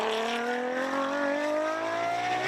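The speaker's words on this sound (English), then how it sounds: "Fantastic 6-litre V12 engine." Ferrari 599 FXX race car with a 6-litre V12 drives past at a motorsport festival, its loud sustained engine note rising steadily in pitch as it accelerates, with no talk over it.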